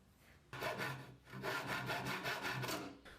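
A wooden guitar neck is sanded by hand in a backward-arching motion along its curve, making close, steady rasping strokes that repeat in a quick rhythm with no talking.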